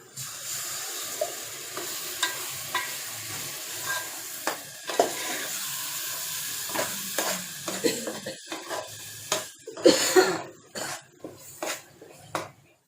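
Ground masala paste, blended in a mixer, frying in a pan for a surmai fish thali, with a steady sizzle broken by repeated scraping stir strokes and spoon knocks against the pan, close and clear, with no talk.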